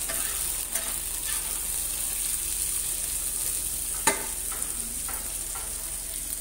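Garden-grown yardlong beans fry in a pan with a steady, close sizzle, broken by light stirring scrapes and one sharp clack of a utensil partway through.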